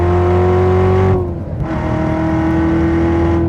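Corvette Z06 with a 7-speed manual at full throttle on the Spring Mountain Motorsport Park track, a loud, steady high-rev engine howl from inside the car, broken by a quick dip at a shift before climbing again.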